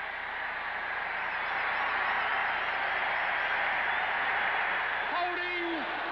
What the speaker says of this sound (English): as the crowd goes wild once again